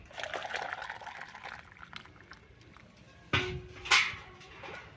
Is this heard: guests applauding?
no